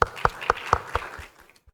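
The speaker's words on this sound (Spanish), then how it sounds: "Un aplauso al Señor por esto." A church congregation claps in a steady, even rhythm of about four beats a second that quickly thins out and stops.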